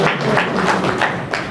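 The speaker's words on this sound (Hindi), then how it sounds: "ताली बजा दो भाई के लिए।" An audience claps for a man at a spiritual gathering, with steady, fairly loud applause filling the short stretch without any voices.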